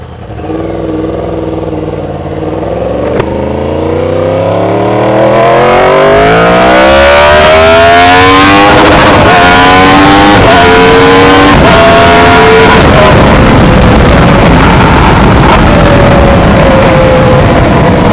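A Kawasaki Ninja 1000 or Yamaha R1 sport motorcycle accelerates hard from a launch, its loud close engine note climbing through several rising gear sweeps before settling into a high steady roar.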